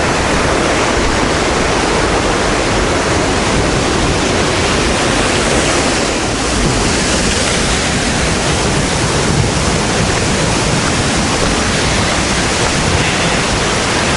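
Dawson Falls on Mount Taranaki pours in a loud, dense, unbroken roar of falling water, a steady full-band rush from close by with no voices.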